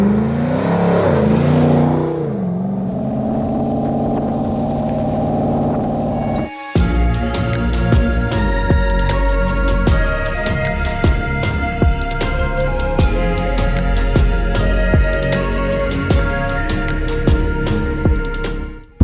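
A GM 6.2-litre LT1 V8 in a 1994 Land Rover Defender 90 idles with a low rumble, then revs loudly and roars continuously with repeated throttle blips, close and powerful.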